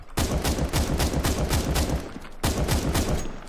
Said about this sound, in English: So this is the new Scar 20.